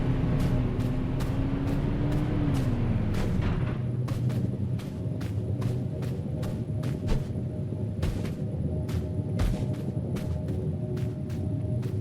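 Gunfire in the video game Totally Accurate Battlegrounds: a long run of sharp, evenly spaced shots crackling over a steady low engine-like drone, loud and close, with no voices.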